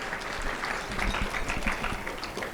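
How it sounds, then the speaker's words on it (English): An audience at a Somali Health Board celebration gives a round of applause, a soft continuous patter of clapping heard at a distance. "Round of applause."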